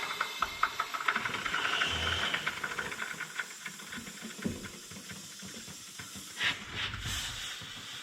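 Air hisses from a truck's lift axle in bursts, close by, mixed with clanking and knocking from the work around it.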